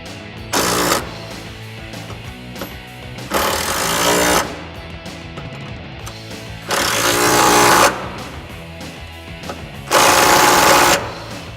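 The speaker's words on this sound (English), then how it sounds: "you're gonna go ahead and tighten them up." Power tool tightening side step bolts on a 2004-2006 Jeep Wrangler TJ Unlimited, four loud bursts of whirring and rattling separated by short quiet gaps.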